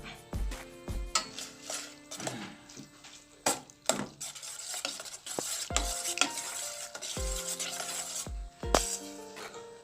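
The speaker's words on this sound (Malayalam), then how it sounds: "നമുക്ക് ഇതിനകത്തോട്ട് നമ്മുടെ ചൈന ഗ്രാസ് ഇട്ടൊന്ന് ചൂടാക്കി എടുക്കാം." China grass (agar) heats in a pan while a utensil stirs and scrapes against the metal, producing irregular clinks and scrapes over a soft, steady sizzle, close and fairly quiet.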